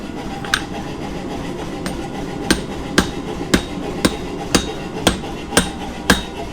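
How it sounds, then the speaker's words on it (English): Hammer forging the tip of a feather-pattern integral bolster chef's knife in a bladesmith's shop: sharp, evenly spaced metallic strikes about twice a second over a steady forge roar. "I'm forging the tip in on this integral bolster chef's knife"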